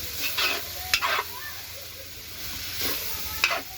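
Bihon and canton noodles stir-fried in a pan, with sizzling under bursts of hissing and several quick scraping tosses, close and fairly loud, no speech.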